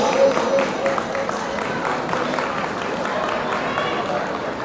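A crowd applauds at a Mollendo club celebration night in Paterson, New Jersey, with steady clapping and crowd noise mixed under a voice talking.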